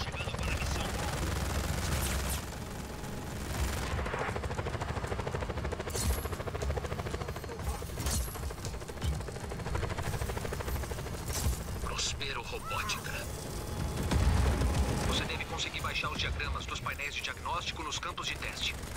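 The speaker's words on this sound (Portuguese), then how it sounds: "Caramba, tem até helicóptero." A helicopter drones amid bursts of machine-gun fire and explosions in the Just Cause action game, with someone talking over the continuous battle noise.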